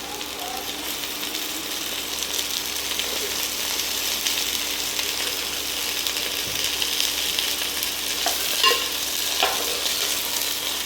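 Ivy gourd fries in oil with green chilies and coriander, a steady sizzle with stirring scrapes running throughout, and a few brief louder clatters near the end.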